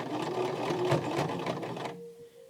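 A sewing machine stitches through a thick fabric corner of a face mask, its quick mechanical clatter running steadily for about two seconds before stopping, leaving a faint tonal hum.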